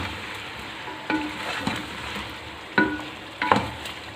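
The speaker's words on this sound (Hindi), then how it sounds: "चिकन को हम मसालों के साथ थोड़ी देर के लिए भून लेते हैं" Chicken frying in a pan with spices such as dry coriander powder while being stirred, with soft sizzling and several clanking stir strokes spaced irregularly, moderately close.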